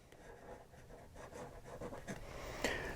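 Conway Stewart 58 fountain pen with a soft nib writing on paper, a faint, steady scratchy rub of strokes with a brief sharper scrape near the end, quiet and close.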